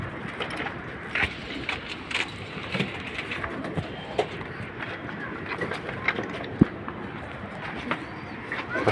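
Pigeons coo softly in a loft, with low, repeated calls among light rustles, scattered knocks and faint background noise.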